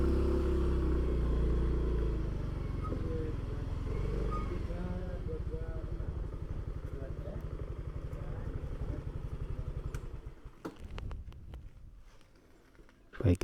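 A motorcycle engine runs steadily nearby with a low rumble during a ride toward the Girpasang bridge near Klaten, then the engine note cuts away into quieter clatter as the bike comes to a stop.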